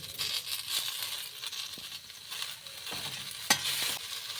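Spinach and flat beans are stir-fried in a pan, with a soft crackling sizzle and a few irregular stirring scrapes, close and quiet with no talking.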